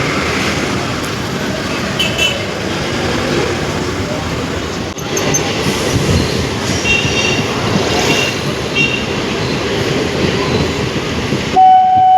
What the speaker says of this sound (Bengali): একটু ট্রেন স্লো যাচ্ছে